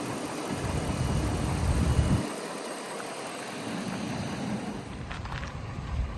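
A 2012 RAM 1500 Quad Cab pickup with a 4.7 liter V8 idles smoothly, producing a steady, even low rumble that stays close and continuous with no revving.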